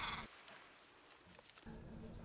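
A newborn lamb with cow-like markings bleats on a sheep farm in northern Japan, one loud cry at the start and another near the end, separated by a quieter stretch of farm background.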